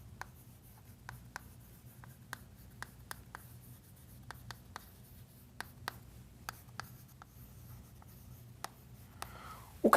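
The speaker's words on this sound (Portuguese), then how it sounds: "vou escrever isso aqui" Writing on a board during an arithmetic lesson, quiet and close, with irregular tapping and scratching strokes over a low hum and a louder knock at the very end.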